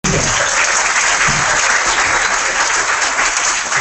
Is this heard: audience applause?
yes